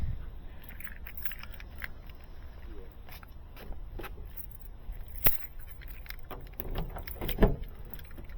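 Car keys for a Hyundai jangle faintly in scattered, quiet metallic clinks and jingles, with a couple of sharper rattles near the end.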